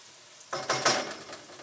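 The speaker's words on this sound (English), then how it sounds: "You want to make sure everything's blooming in the oil, especially those spices." Spices, aromatics and chili powder bloom in hot oil for Sri Lankan stir-fried noodles with vegetables, and a spoon stirs them. A soft hiss and sizzle rises suddenly after a quiet start, with a few scraping stirs, fairly faint and close.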